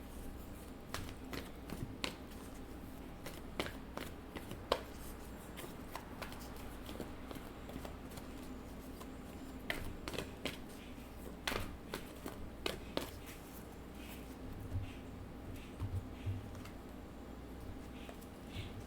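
Wisdom of the Oracle cards are shuffled in soft, quiet riffling taps and slaps that repeat over a faint low hum, with no talk.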